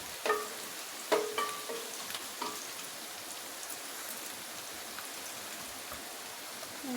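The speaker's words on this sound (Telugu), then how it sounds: "ఇంకొంచెం ఫ్రై అయితే తీసేస్తాను స్మూత్గా ఉండడం కోసమే ఫ్రై చేయాలండి పన్నీరు" Paneer pieces frying in a pan for paneer biryani, giving a soft, continuous sizzle with a couple of clear utensil clinks early on, close and fairly quiet, no voices.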